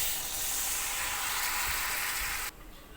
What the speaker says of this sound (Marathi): आता चांगली उकळी आली.